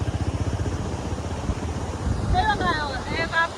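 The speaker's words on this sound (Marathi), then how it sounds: "पाण्याचा आवाज कसला आहे, लय वेगात पाणी आहे, भरपूर वेगात पाणी चालू आहे." Fast-flowing water rushes loudly and steadily after very heavy rain, with bird calls chirping faintly over the top toward the end.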